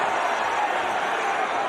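Steady crowd roar at a Jake Paul vs Nate Diaz boxing fight, a dense, continuous wash of arena noise held evenly throughout.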